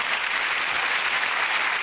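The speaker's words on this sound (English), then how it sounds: "a round of applause for all the people" Steady, dense applause from a crowd, continuous clapping at an even level throughout with no voices standing out.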